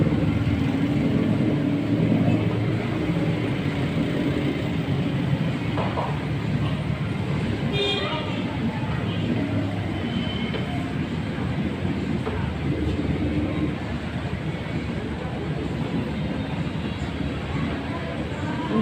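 Traffic on a Monday holiday street, a continuous low rumble of vehicles and road noise with a heavy passing vehicle, steady and fairly loud throughout with no clear voices.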